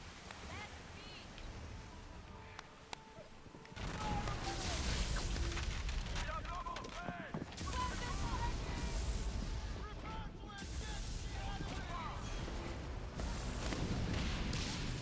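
Demi-cannons on a sailing ship in the naval game Skull and Bones fire at an enemy vessel, producing heavy booming volleys and crashing impacts over ocean ambience, with a player talking over the action.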